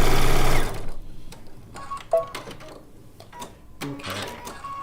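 Sewing machine stitching a quilt top in blue and white fabric, a loud dense motor run at the start, then quieter intermittent needle stitching and light handling noises.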